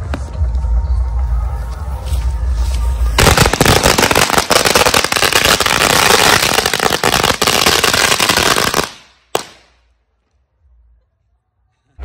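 Firecrackers set off outdoors during a festive celebration, a long dense burst of rapid crackling pops lasting several seconds, loud and close, ending abruptly with a final sharp bang and then near silence.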